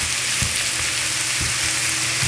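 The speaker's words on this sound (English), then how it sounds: "I'm gonna let it cook a little more." Spring rolls fry in a pan with a dense, continuous sizzle and crackle, loud and close, with a few soft bubbling pops and no voices.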